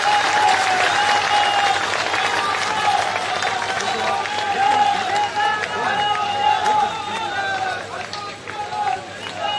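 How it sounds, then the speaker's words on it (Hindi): A large crowd at a live political rally claps loudly and steadily to welcome an arriving chief minister, with cheering and voices mixed into the sustained applause. "जोरदार तालियों के साथ स्वागत कीजिएगा।"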